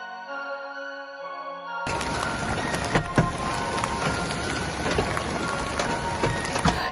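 Heavy rain with hail pounding down outdoors during extreme weather, a dense, steady broadband roar with sharp scattered impacts that begins abruptly and continues loud and unbroken to the end.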